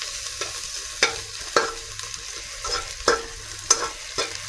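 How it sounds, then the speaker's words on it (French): Onions cook in an okra fish sauce with a soft bubbling sizzle, broken by several sharp spoon knocks and scrapes against the pot at irregular intervals, close and clear, no voices. "Je vais y ajouter les oignons et laisser mijoter"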